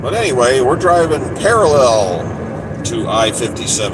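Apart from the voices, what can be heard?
No everyday noise stands out behind the speech.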